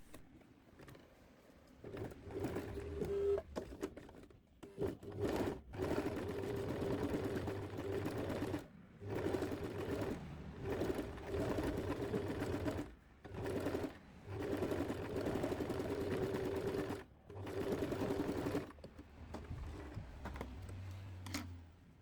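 A sewing machine topstitches blouse fabric one millimetre from a pressed seam, running in close steady bursts of rapid needle hum separated by short pauses.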